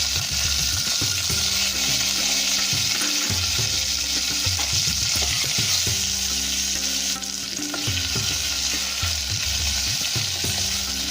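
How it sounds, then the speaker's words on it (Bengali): Onions sizzling and frying in hot ghee with cumin, bay leaf and dried chilli, with steady close crackle and intermittent stirring scrapes of a spoon in the pan throughout, no voices. "ঘিটা গরম হয়ে গিয়ে জিরেটা যখন একটু ব্রাউন হয়ে এলো তখন আমি পেঁয়াজগুলো দিয়ে দিলাম।"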